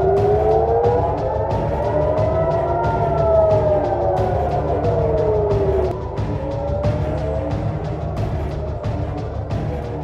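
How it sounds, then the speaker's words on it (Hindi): Air raid sirens wailing across Israel during a missile attack, rising and falling tones overlapping loudly and continuously over a low rumble of traffic. "पूरे इजराइल में हवाई हमलों के सायरन बजने लगे"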